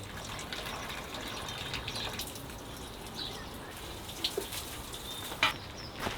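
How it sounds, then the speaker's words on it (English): Water sprays and patters steadily over plants in a warm, humid greenhouse, a continuous close hiss of watering with a few faint drips and knocks, no talking. "we need to water everything. Plants need water."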